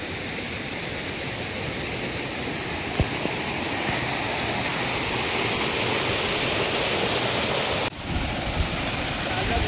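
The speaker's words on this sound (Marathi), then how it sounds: "किती जोरदारचा पाऊस पडत आहे" Heavy monsoon rain pours outdoors at a rural cookout, making a loud, dense, continuous wash of noise with one brief break near the end.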